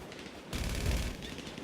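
Gunfire in a shooter video game rattles in a continuous, rapid burst, fairly quiet and dense, growing slightly stronger after a brief lull at the start, with no voices.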